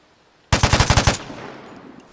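A burst weapon set to auto fire in the video game Vigor lets off a rapid string of about seven loud, close shots in under a second, followed by a fading echoing tail.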